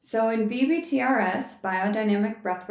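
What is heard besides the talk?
None of the usual background noises is heard.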